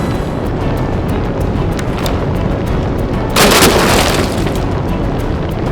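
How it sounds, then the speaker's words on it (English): A toy fire effect in a Thomas and Percy toy train story plays as a loud, steady crackling roar throughout, swelling into a brief harsher burst partway through. "Oh dear! Fire! Fire! Help! I'm trapped behind a fire!"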